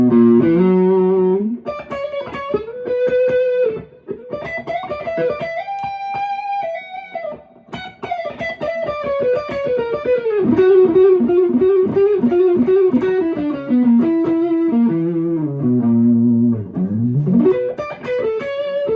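Les Paul copy electric guitar played through distortion, a loud run of sustained chords and single notes with slides and bends, heard up close with no talk over it.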